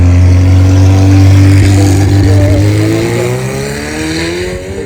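A purple car driven by Charlie, its engine a loud, close, steady drone that holds a low pitch and then eases slightly as the revs shift, alone with no talk.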